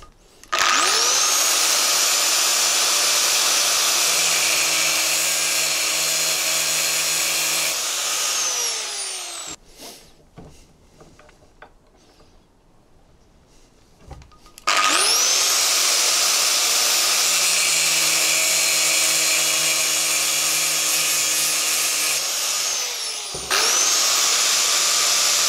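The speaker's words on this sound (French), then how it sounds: "je vais découper mes fentes à la meuleuse d'angle" Angle grinder cutting slots into a steel bicycle pedal axle clamped in a vise, a loud sustained high whine running for several seconds, a pause with faint handling noises, then a second long grinding pass and the start of a third.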